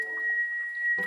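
A long, level, high whistle from a sloth calling to find a mate in the Amazon forest, held steadily throughout, with a soft low rumble at the start and a brief burst of broader noise near the end.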